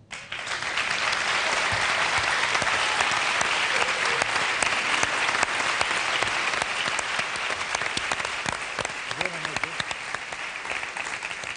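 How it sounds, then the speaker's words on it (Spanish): Sustained, dense applause from a studio audience at a Spanish-language live variety TV show, loud and steady for the full length with no voices rising above it, tapering only slightly near the end. "Esperemos no se arrepientan del aplauso."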